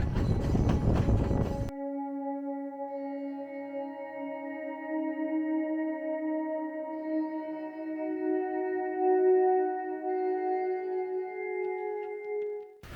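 A train on the railway between Nuwara Eliya and Ella opens with a brief burst of noisy rumbling, then a long, sustained, horn-like harmonic tone that holds steady and fairly loud to the end.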